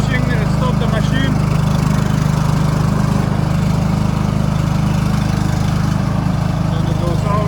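A Stiga Park compact ride-on lawn mower running steadily with a loud, close, constant droning engine hum throughout, no pauses.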